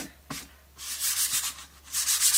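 Rough, hissing rasp of a sanding disc rubbed over a surface in several steady strokes, close and fairly loud, with no talking.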